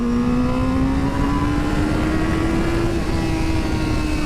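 A Yamaha R7 motorcycle engine holds a steady, slowly rising drone while riding on tarmac. Constant rushing wind noise lies beneath the engine, which stays loud and continuous throughout.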